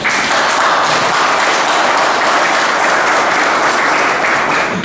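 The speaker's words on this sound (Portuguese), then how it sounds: "Uma salva de palmas para ela." An audience applauds at a public council session, dense and continuous clapping that stays loud and even for several seconds, with no voices standing out.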